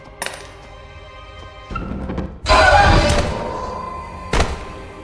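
A door creaks open with a thud in the horror video game Granny 5, followed by a loud rushing clatter and another knock, close and sharp in a quiet room.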